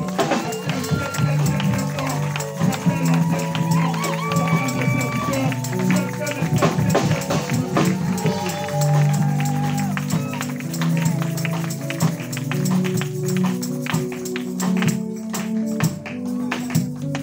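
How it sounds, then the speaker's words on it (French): A church congregation claps and cheers loudly during a worship service. The applause is dense and continuous, mixed with voices and music throughout. "Acclame encore une fois de plus."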